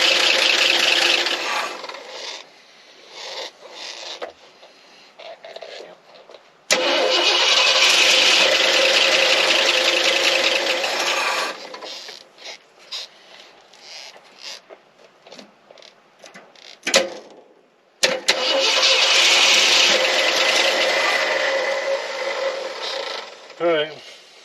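A 1963 car engine firing up for the first time in 25 years: two long, loud rough running bursts that start abruptly and cut out, with quieter gaps between them.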